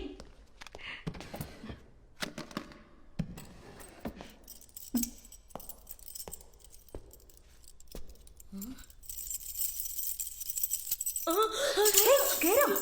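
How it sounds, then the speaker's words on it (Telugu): A bunch of keys jangles and clinks in a bright, metallic burst near the end, after scattered thumps and movement in a quiet indoor scene where a group is told to stay inside until dawn. "తాళాలు"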